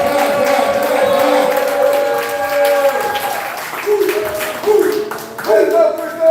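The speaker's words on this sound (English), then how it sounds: "All right, clap for that boy," Audience clapping at a Southern Fried poetry slam, a busy patter of applause under a loud voice urging the crowd on, with a few cheers mixed in.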